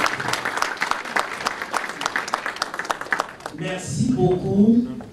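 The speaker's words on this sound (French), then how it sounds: "Nous pouvons applaudir" Audience applause at an evening Canadian campaign launch event for Félix Tshisekedi, a steady dense clapping for several seconds, then fading as a voice begins speaking over the end.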